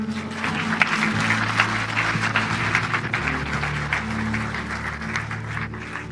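Church congregation applauding together during a French-language service, a steady dense wash of clapping throughout, with organ or keyboard chords sustained underneath.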